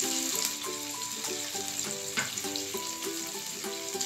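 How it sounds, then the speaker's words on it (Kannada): Paneer cubes fry in a little oil in a pan, a soft hissing sizzle with light stirring, faint and partly masked by rhythmic background music. "ಸ್ವಲ್ಪ ಆಯಿಲಲ್ಲಿ ಫ್ರೈ ಮಾಡ್ಕೊಳ್ಳೋಣ"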